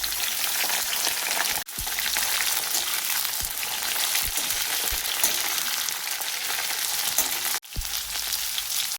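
Vegetable sabzi frying in a pan, a steady loud sizzle and crackle throughout, broken by a couple of brief cuts, with no speech over it.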